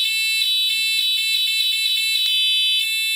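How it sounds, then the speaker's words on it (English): A steady, high-pitched electronic ignition timing buzzer on a Rotax single-cylinder engine drones continuously, loud and unwavering, with faint background noise and a brief click partway through. "you hear the difference in the buzzer"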